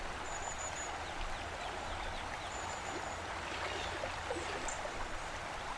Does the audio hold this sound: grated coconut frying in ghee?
no